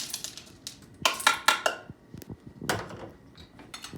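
A pot of lingonberries is set down on a home stove, giving a few sharp metallic clanks and scrapes of cookware scattered across a quiet kitchen, fairly close and alone without talk.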